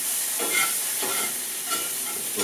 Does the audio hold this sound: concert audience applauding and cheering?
no